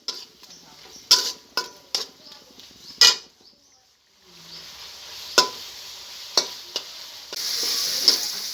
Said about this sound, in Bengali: লঙ্কার গুঁড়ো দিয়ে দেবো। এগুলোর সঙ্গে একটু কষিয়ে নেব।